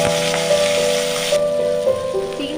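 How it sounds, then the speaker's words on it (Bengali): Prawns dropped into hot mustard oil in a kadai give a dense, even hiss of frying, close and steady, with a faint background hum. "এবার আমরা এতে চিংড়ি মাছটিকে দিয়ে নিচ্ছি"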